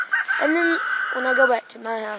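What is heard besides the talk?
chickens on a farm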